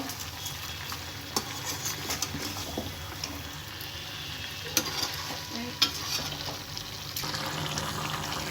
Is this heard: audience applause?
no